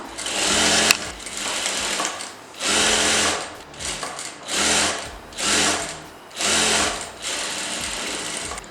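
Sewing machine stitching a folded hem on a blouse in loud, close bursts of rapid whirring, about six runs separated by short pauses.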